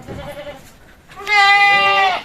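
Jawa Randu goats bleat loudly and close by, one long wavering call following brief murmured talk.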